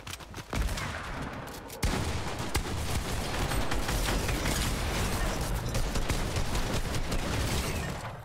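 Rapid, sustained gunfire rattles from a weapon in the Fortnite video game, with dense bursts of shots close and loud after a brief opening pause.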